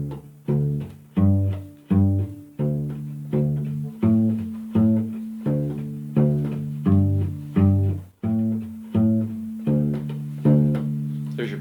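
Plucked double bass notes walk through a steady, bouncy bass line, each note thumping and decaying quickly in a shuffling rhythm, close and alone.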